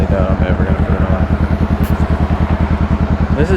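Close, loud idle of a Honda Rebel 500 motorcycle wearing a DBK exhaust without cats, a rapid even chugging beat that holds steady throughout.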